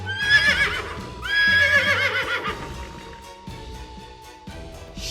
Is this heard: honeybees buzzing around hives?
no